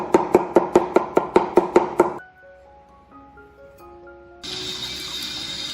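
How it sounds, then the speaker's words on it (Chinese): A knife chops garlic on a cutting board in about nine quick, evenly spaced, crisp strokes, close and loud. The chopping then stops and gives way to soft musical tones and a steady hiss. "再剁个蒜蓉"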